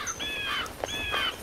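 Birds in the video game Tomb Hunter give two rising, squealing calls, one after the other, each followed by short chirps, over a steady game background hum.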